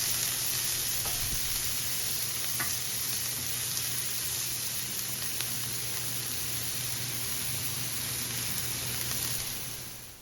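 Sliced onion with salt sautés in a pan, giving a steady, close sizzle and hiss that runs throughout with a few faint scrapes of stirring, then fades slightly at the end.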